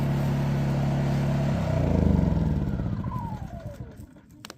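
A Harbor Freight 2500 watt inverter generator hums steadily nearby, then is shut off, its engine sputtering and winding down in uneven pulses before falling nearly silent, with no talking.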